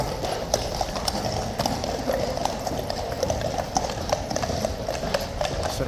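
Hooves of a runaway horse clip-clop steadily on the hard ground at Horse Guards, a brisk continuous trotting rhythm of many close, sharp strikes over an outdoor background wash, with no talk.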